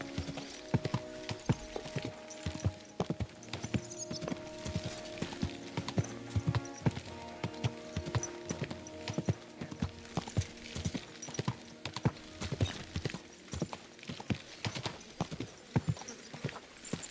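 Steady clip-clop of horse hooves in Kingdom Come: Deliverance II keeps a brisk rhythm for the whole stretch, with a soft melodic music bed underneath.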